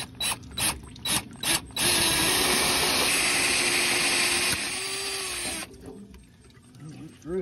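A drill grinds loudly and steadily through a broken bolt in a Ford 8N tractor's exhaust manifold, after a few short starting bursts, then winds down into quieter mechanical noise near the end.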